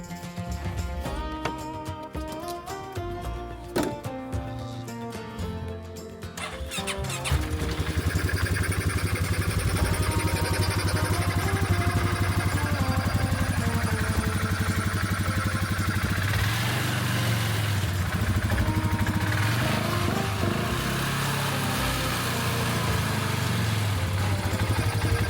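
A small engine cranks with a few uneven rattling pulls, then catches around halfway and settles into a loud, steady idle that runs on unbroken.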